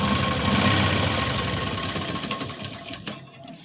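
A sewing machine runs a continuous, close, buzzing stitch through blouse fabric, holding a steady hum before a couple of clicks near the end as it slows.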